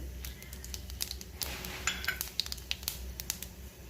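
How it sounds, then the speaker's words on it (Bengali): Cumin seeds tempering in hot oil in a kadai give off a faint, steady sputtering crackle, with sharper pops and light utensil clinks scattered through it. "তার জন্য কড়াতে দিয়ে দেব, ওই তেলেতেই দিয়ে দেবো একটু জিরে ফোড়ন"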